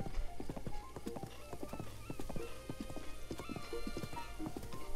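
Horse hooves clip-clop in a quick, even rhythm in Zelda: Breath of the Wild, close and clear with no voices over them.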